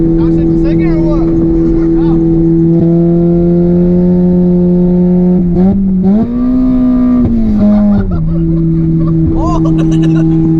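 Honda Civic with a rod-knocking engine driven on a freeway, a loud steady droning engine tone with brief rises in pitch, heard from inside the car while people talk over it.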